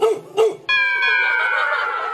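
A voice imitates a dog on a variety show set: two short, loud barks followed by a drawn-out, high, whining yelp that holds steady to the end.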